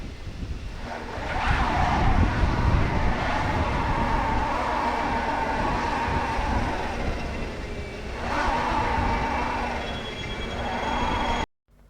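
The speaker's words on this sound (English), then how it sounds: "there is, in some cases, no torque, no drive going to the either rear wheel, and the front right is just spinning" A BYD Shark 6 pickup grinds over mountain gravel off-road, its engine droning steadily while a front wheel spins loose, with rising and falling scrabbling noise and tire slip, close and continuous before cutting off abruptly.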